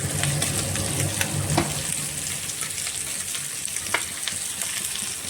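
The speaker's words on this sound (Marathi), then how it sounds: "हे बघा असे अंडे फ्राय करायचे लाल होईपर्यंत." Eggs and potatoes frying in a pan for an egg biryani, a steady close sizzle with crackling pops and a few scrape-like clicks, no voices.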